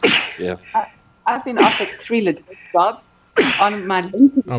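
A person sneezes once, sharp and close, in the middle of a conversation, with talking before and after.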